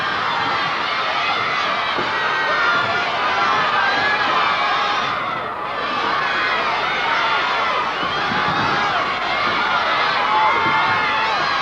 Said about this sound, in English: enthusiasm coming out of the crowd